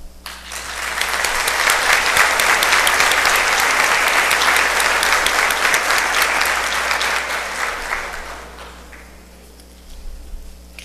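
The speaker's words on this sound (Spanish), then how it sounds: "también merecen de parte de nosotros un aplauso" Sustained applause from a conference audience, building to a steady loud roar of clapping for several seconds before tapering off, with a few scattered claps at the end.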